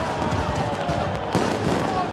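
Fireworks set off by cheering prisoners in a prison film after a goal by Brazil, a loud continuous crackle and bursts blended with crowd noise and shouting.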